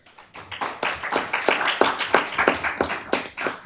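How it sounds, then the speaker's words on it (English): Applause from a small audience at a city council meeting, individual claps distinct and rhythmic, a handful of people clapping close by at moderate loudness. "we can tell him that he got a round of applause"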